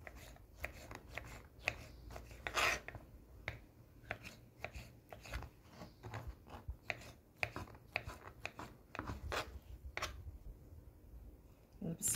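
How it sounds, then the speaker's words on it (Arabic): Quick, crisp knife chops on a cutting board through tomato and onion, a long irregular run of sharp taps with short pauses and occasional louder strikes, close and fairly quiet. "دابا نقطعوا هاد المطيشه وهاد البصيله"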